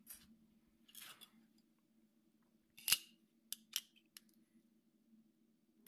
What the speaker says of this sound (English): Then I put this between two pieces of glass.